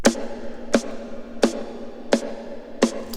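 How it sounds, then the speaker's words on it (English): A snare drum recorded through a gate keyed by the snare-top microphone sidechain, struck five times at a steady, even pace, each hit a sharp crack that cuts off cleanly into near silence. "The snare is going to sound like this."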